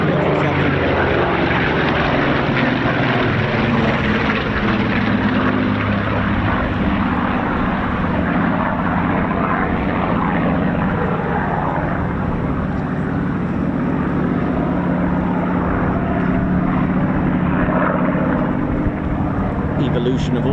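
A Spitfire propeller aircraft roars steadily overhead at an air show, a loud sustained engine drone lasting throughout, with a voice faintly present beneath it.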